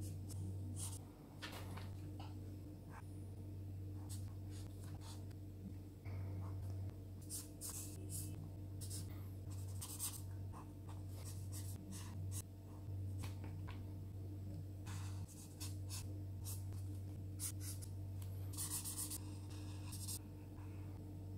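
A felt-tip marker scratches steadily across paper while a pixel-art drawing is being coloured in. Close, soft strokes repeat at an irregular pace over a low constant hum.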